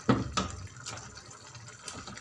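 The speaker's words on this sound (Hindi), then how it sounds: "अब हम इनमें वही पानी डालेंगे जिसमें हमने चनों को बॉयल किया था।" Chickpea boiling water poured into a hot pan of mashed chickpeas over a high flame, a couple of splashy pours and sizzling spatters up close, then quieter bubbling and drips.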